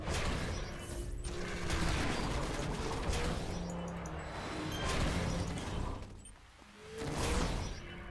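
Dual pistols fire in City of Heroes amid a busy fight, rapid bursts of shots mixed with whooshes and crashes, fairly quiet and dense in repeated waves.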